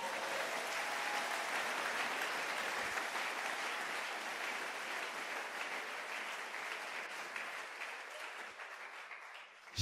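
A church congregation applauds during a sermon, a broad wash of clapping that begins strong and slowly thins, fading toward the end.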